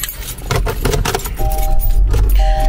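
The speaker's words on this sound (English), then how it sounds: "Turn on the car, Christopher." Car keys jangle close by for a couple of seconds, then a car engine turns over and settles into a low rumble, with no talking.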